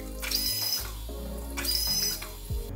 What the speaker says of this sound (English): I'm gonna plug it in and test it for the first time now with this little mug of water. Whoa, it's quite noisy.